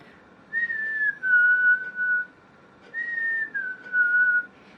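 A person whistles a two-note descending call twice, clear and close, imitating a chickadee's territorial spring song.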